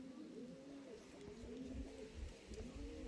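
Racing pigeons coo repeatedly in a training loft in Lithuania, soft rolling calls layered and continuous at a moderate distance against a quiet background.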